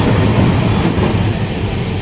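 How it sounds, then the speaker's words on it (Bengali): A train on the line from Kolkata rumbles steadily at close range, a loud, dense low roar that cuts off abruptly at the end. "ট্রেনটা অলরেডি চলে এসেছে লাইনে।"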